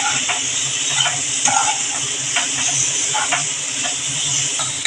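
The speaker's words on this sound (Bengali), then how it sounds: "একটু আলুটা মশলার সাথে কষিয়ে নিচ্ছি" Potatoes sizzling as they are sautéed with spices in a hot pan, a continuous steady frying hiss with occasional soft stirring scrapes, close and loud.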